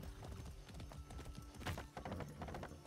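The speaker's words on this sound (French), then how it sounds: "C'est un bon cheval." Horse hooves clip-clop in a steady trotting rhythm within the Far Cry 6 video game, loud and close over a busy game soundscape, with no talking.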